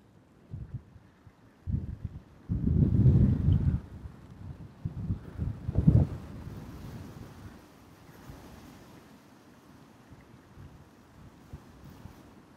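Wind gusts buffet the microphone at a winter carp fishing spot, with bursts of low rumbling roar rising and fading, then a quieter steady breeze.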